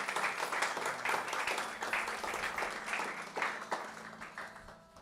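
A church congregation claps loudly and steadily during a service, a dense, sustained burst of applause that fades slightly toward the end.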